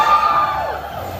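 A crowd of Barangay Ginebra basketball fans shouts and cheers at a jersey launch event, a loud sustained roar that slowly fades over a second.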